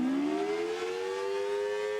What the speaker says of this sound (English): Here's what a dual tone siren sounds like.